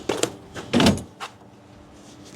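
A slide-out fridge tray in the drawer system of a 2010 Land Cruiser 200 overland build is pushed back in and latched, giving several sharp metallic clunks and a rattle close by, then a quieter stretch and a final click.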